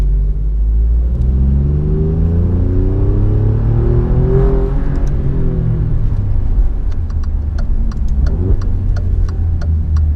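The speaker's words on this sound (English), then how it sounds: "Those downshifts sound great. This exhaust is a really nice exhaust system from Alfa." A loud 2017 Alfa Romeo Giulia Quadrifoglio engine revs up and down through the gears, with rising and falling pitch sweeps, deep exhaust rumble and a few sharp crackles near the end as it downshifts.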